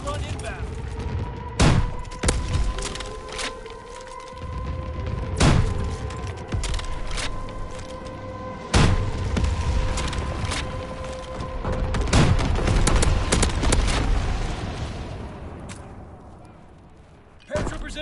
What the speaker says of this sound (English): Carpet bombing run inbound.